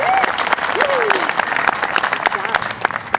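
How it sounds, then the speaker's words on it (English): Crowd applause at an outdoor Memorial Day ceremony in DeKalb, Illinois, a dense steady clapping from many people that holds for about three seconds, with some speech mixed in underneath. "I want to give Scott a nice round of applause."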